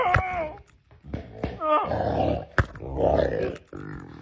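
A big, agitated dog growls and snarls in rough, uneven bursts at close range, interleaved with excited vocal sounds from a person nearby.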